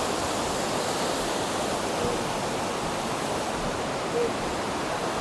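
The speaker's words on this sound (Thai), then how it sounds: "ดูน้ำตกตรงนี้ครับสวยมากเลย" A waterfall in the Aareschlucht gorge in Switzerland gives a steady, even roar of rushing water that holds at the same level throughout, close and full, with no breaks.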